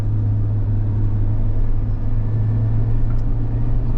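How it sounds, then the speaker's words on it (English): Suzuki Jimny fitted with a Torqit airbox pulling away from a standing start, a steady close engine drone with a strong low hum throughout and no talk. "just go from a standing start and see how well this car does"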